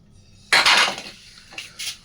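Ice pellets hit a red-hot wok with a sudden loud burst of hissing sizzle that fades, followed by two smaller spitting flare-ups, close and with no talking.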